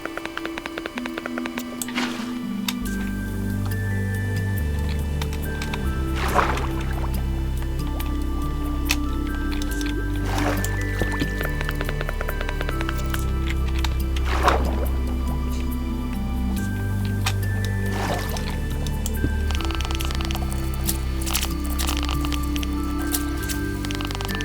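Water splashes out of a bucket in Minecraft several times at spaced intervals, each a soft liquid gush over steady background game music.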